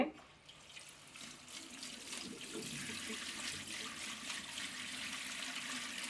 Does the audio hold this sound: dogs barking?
no